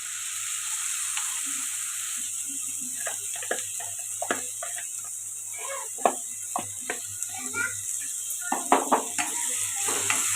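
Tomato puree frying with ginger garlic paste in a pan for an egg curry, a faint steady sizzle under a series of sharp close clicks and scrapes from stirring, louder taps clustering near the end.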